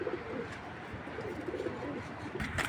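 Imported racer pigeons cooing softly in a loft, low repeated coos under a rustling, fluttery background, with a brief louder burst of movement near the end.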